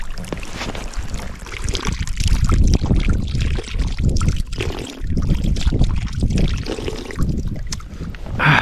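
Fresh mountain spring water pours and splashes close by at a wintry spot in Armenia, a loud, continuous gush with uneven surges and some wind buffeting the microphone.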